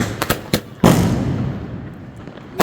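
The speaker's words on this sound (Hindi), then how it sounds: "सो अब ये जल रहा है 12 शॉट्स, जो कि कुछ इस तरीके से गया।" A 12-shot Diwali firework cake fires off outdoors, several sharp pops followed by a heavier bang and a rumbling, crackling tail that fades away.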